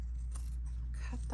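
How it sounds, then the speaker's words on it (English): Scissors cut through pillow fabric in a few close snips over a steady background hum, with a brief voice near the end. "cut that out."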